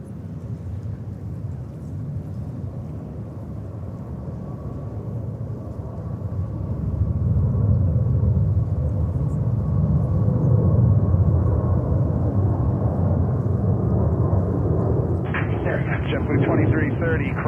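An Etihad Airbus A350-1000 airliner roars at JFK airport in winter, a deep rumbling jet noise that swells louder as it passes close, with a brief burst of radio chatter near the end.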